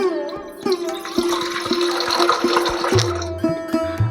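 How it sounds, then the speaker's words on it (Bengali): Water pours steadily into a cooking pot set on a gas stove, a continuous rushing splash with a rising filling tone, close and alone for about four seconds. "পাত্রের মধ্যে দিয়ে দেবো পরিমাণ মতো জল"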